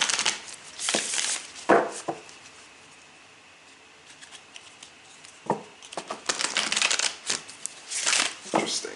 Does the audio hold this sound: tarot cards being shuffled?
yes